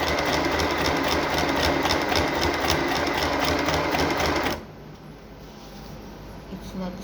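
A foot-pedal sewing machine stitches the front of a trouser from waistline to crotch, running in a loud, steady, rapid whir before cutting off abruptly, and quieter room sound follows.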